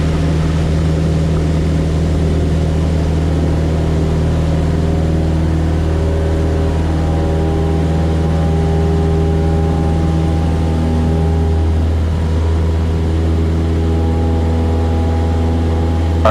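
A small propeller airplane during takeoff, a steady loud engine drone with a strong low hum that holds for the whole stretch, heard from inside the cabin with no talk.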